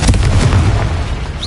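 Confringo blasting-curse explosion in a Harry Potter video game, a single loud, close boom with a rumbling, noisy body that fills the short moment.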